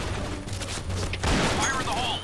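Rapid pirate gun fire in the shooter game Point Blank, a dense fusillade of shots in steady bursts over continuous background game noise.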